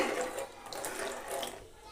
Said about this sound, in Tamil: கிரேவிக்கு தேவையான அளவு தண்ணி சேர்த்துக்கலாங்க.